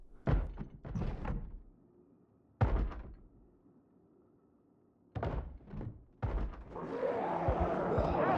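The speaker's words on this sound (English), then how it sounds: "I am daunted to hear banging on the door." Zombies banging on a wooden door in the survival game Project Zomboid, heavy repeated thuds in separate clusters with quiet gaps between them, the last burst running on into a longer rattling clatter.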